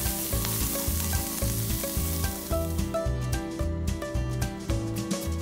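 Sausages sizzling in oil on a grill, a loud continuous crackle close by with a regular pulsing pattern, no talking.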